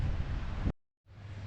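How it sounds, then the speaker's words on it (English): Strong wind buffets the microphone outdoors at Magaluf, Mallorca, a loud low rumbling roar that cuts out abruptly and then returns a moment later. "it's very windy, Magaluf"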